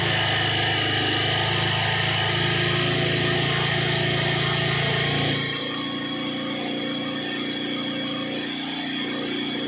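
A Bajaj Pulsar 220F motorcycle engine idles during carburettor mileage adjustment, a steady close buzzing hum that shifts in pitch and tone partway through as the revs change, with no voices.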